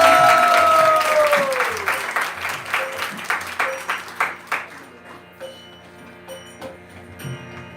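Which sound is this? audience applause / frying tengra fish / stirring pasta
audience applause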